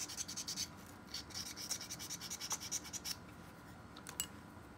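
Glass crystal clarinet mouthpiece being refaced by sanding, a quick series of short, close rubbing strokes in an even back-and-forth rhythm, fairly quiet, with a few sharper scrapes near the end.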